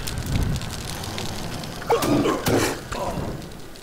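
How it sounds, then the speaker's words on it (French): Campfire being lit in the video game Sang-Froid, with a low crackling roar that swells into a couple of brief bursts before settling into a steady burn. "On va allumer le feu ici."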